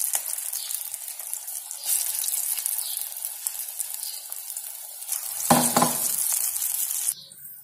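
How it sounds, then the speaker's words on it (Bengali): Small moong dal pakoras deep-frying in hot oil give a steady, close sizzling crackle that swells briefly near the end as more batter drops in, then cuts off sharply; no one speaks. "তেল গরম হয়ে গেছে, এবার আমি ছোট ছোট বড়া করে ভাজবো"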